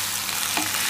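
Pieces of yam fry in hot oil while being stirred, giving a loud, dense, close-up sizzle that continues steadily through a single second with no voices.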